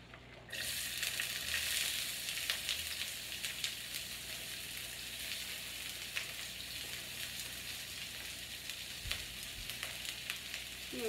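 Onions stir frying in sesame seed oil, a loud, dense sizzle that starts abruptly and hisses on steadily, with faint scrapes and clicks over it.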